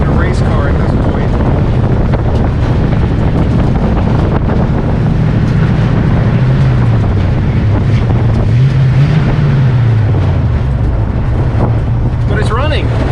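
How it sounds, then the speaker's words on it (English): Loud cabin roar inside a 1965 Ford Mustang 289 with no sound deadening while driving: constant heavy road and engine rumble, with a low engine drone rising and falling under the steady noise. "It is loud in the car and it's pulling to one side."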